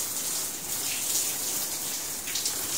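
Water pours steadily over a fin board being rinsed before washing with Sunlight soap, a continuous close splashing gush with slight surges, no voices.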